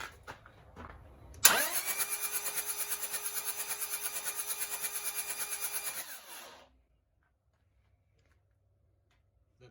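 A Toyota 1PZ diesel engine cold-starts close by: brief cranking, then it fires and settles into a steady, rhythmic knocking idle for about five seconds before shutting off into silence. No one speaks.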